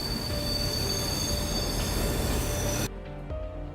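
Parahyangan passenger train braking hard in Train Simulator, a loud, steady metallic wheel squeal with rail rumble that cuts off abruptly near the end, leaving a quieter rumble.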